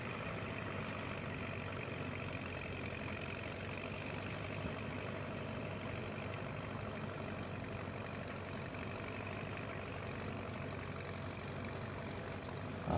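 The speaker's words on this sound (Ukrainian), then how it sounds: "орає, двокорпусний плужок і тягне." A small John Deere mini tractor engine runs steadily at a low, even drone while pulling a two-bottom plow, heard from a moderate distance with no voices over it.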